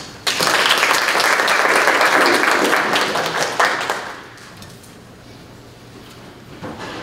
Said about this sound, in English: give her a big round of applause as a Clay County welcome